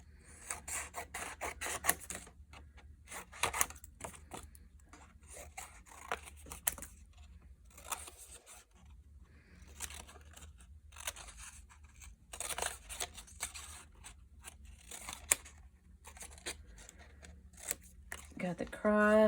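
Scissors rasp and snip through paper in repeated bursts as letter shapes, an M and a cross, are cut out, close and fairly quiet, with pauses between cuts and a voice talking alongside.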